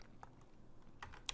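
Computer keyboard keys tapped to enter a command in a terminal: a few quiet, scattered clicks, with a short burst of keystrokes near the end over faint room hiss.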